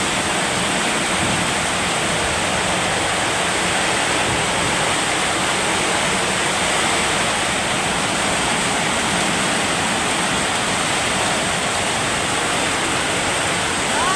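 Heavy rain pours down at night in Dasmariñas, a loud, dense, unbroken hiss of falling water that holds steady throughout with no voices.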